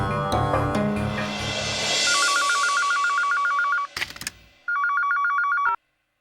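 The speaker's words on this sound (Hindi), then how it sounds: "चल, नंबर लगा।" A landline telephone number is dialed in an Indian home, with a steady repeating electronic ring tone following, briefly interrupted by a clunk and then ringing again, loud and close.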